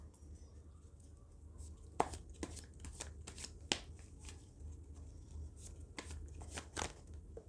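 Tarot cards being shuffled by hand, a quiet run of crisp riffling snaps and paper flicks in uneven bursts, close and soft with no talk.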